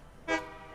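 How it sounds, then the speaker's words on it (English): A train horn in the video game Satisfactory gives one short, bright toot of about a tenth of a second, standing alone over a low background hum. "Honk."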